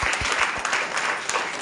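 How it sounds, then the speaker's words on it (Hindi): A seminar audience at an IMC business meeting claps loudly and steadily in a brief burst of continuous applause, with a few sharper claps standing out near the start. "मेरे अप्लायंस डॉक्टर उदय साहब के लिए जोरदार तालियां होनी चाहिए"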